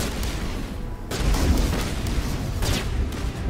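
Gunfire in Mass Effect Legendary Edition on PS5: dense rumbling bursts of game weapon fire and booms, loud and continuous with swells in intensity.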